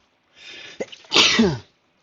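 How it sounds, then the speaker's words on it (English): A single close, loud human sneeze, preceded by a short breathy intake and ending in a sharp, voiced burst. "excuse me, that was a sneeze."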